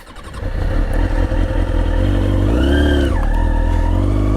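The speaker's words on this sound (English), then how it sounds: "now we'll try it on a sport bike and see if we can pull it off" A sport bike motorcycle idles and pulls through slow-speed maneuvers, its engine holding a steady close, loud rumble, with a brief rising rev and throttle change midway before settling back.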